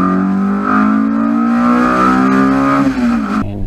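A Yamaha Y16ZR motorcycle engine revs steadily up, holding a rising buzzing tone with harmonics, loud and close, then drops off abruptly at the end.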